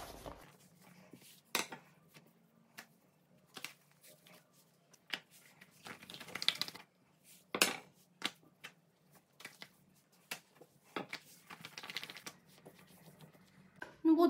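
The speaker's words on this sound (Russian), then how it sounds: "И снова каждый пласт теста немного встряхиваю." Sheets of starch-dusted dough being shaken and folded in a home kitchen, giving soft papery flaps and rustles in scattered bursts, with light clatter and handling noises between them and no talk.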